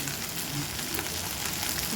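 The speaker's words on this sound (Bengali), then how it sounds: "গ্যাস কমিয়ে কমিয়ে দিয়ে ঢেঁড়সটা ভাজতে হবে" Okra frying in a pan on low gas, giving a continuous close crackling sizzle that holds evenly throughout the short clip, with no voices.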